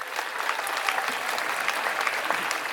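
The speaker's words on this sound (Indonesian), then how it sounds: "Tepuk tangan untuk pemerintah pusat." An audience at the Bali arts festival opening breaks into dense, sustained clapping that fills the hall evenly with no pauses.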